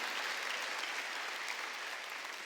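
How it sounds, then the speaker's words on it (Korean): A church congregation at an Easter Sunday service breaks into dense, sustained applause, a continuous even wash of many hands clapping that fills the hall at a fairly soft level, with no distinct voices. "다시 산 걸 믿으면 박수치라 이게야."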